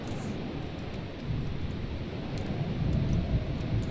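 Rain falls steadily indoors in the video game Eastshade. A continuous wash of patter sits over a low rumble and swells slightly toward the end, with no voices.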